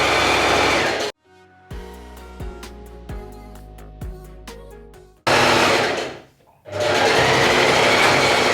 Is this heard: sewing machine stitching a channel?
yes